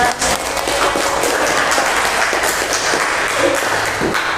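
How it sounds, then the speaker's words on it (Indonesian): A classroom of students applauding after an icebreaker, sustained clapping of moderate loudness across the whole moment, with the rattle of many hands and faint background noise. "Terima kasih untuk Mas Ayes, beri tepuk tangan."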